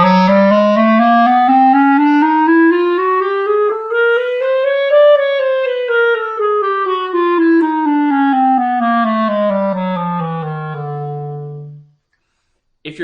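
A single melodic instrument plays a chromatic scale in triplets over two octaves, climbing smoothly to a peak at about five seconds and then descending. It ends on a sustained low note that fades out, with no voices.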